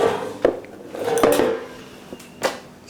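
A roasting pan handled in a home kitchen while oil is added, with a few sharp metallic knocks and clinks close by and a brief scraping rattle in between.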